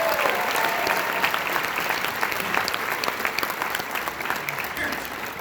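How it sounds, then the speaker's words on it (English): Applause for a group of young students at a school celebration party, a dense, steady round of clapping that fills the whole stretch with a crowd murmur underneath. "Let's give our Power Panthers a round of applause."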